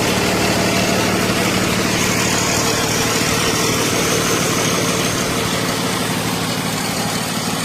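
A 2016 Freightliner Business Class M2 106 truck's diesel engine idles close by, a loud, steady low rumble with an even mechanical chatter running throughout, no voices over it.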